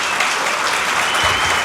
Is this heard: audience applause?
yes